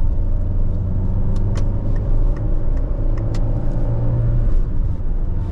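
A 2003 Peugeot 206 Quiksilver with a small 70-horsepower engine pulls away in first gear, a steady close rumble of the engine and road noise filling the cabin throughout.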